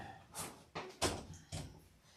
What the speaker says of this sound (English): I just need to close my door real quick because my laundry machine is going and it's a little loud